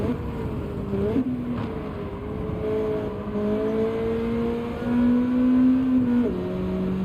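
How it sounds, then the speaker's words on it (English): Rotary-engined car in the racing video game Gran Turismo 7 roars loudly and steadily, its high engine note rising and dropping with gear changes and throttle, with no talking. "The sound of that rotary engine, you can hear that rotary engine really loud."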